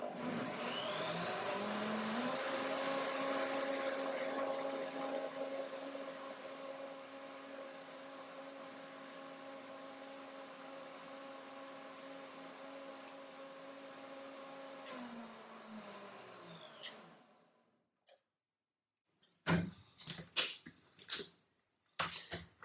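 A blender whirs steadily through chili cilantro lime pea soup, a loud motor drone that holds for about fifteen seconds and then winds down, followed by a few sharp clicks and knocks.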